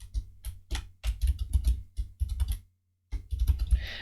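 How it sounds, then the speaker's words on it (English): Quick bursts of computer keyboard typing, close and fairly quiet, come in uneven clusters with a brief pause midway. "the silent tippy-tapping of my keyboard"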